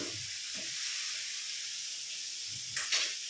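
Paneer sizzles in a hot pan with spinach gravy spices, a steady bright hiss under faint background voice murmurs, with a short flare of crackle near the end.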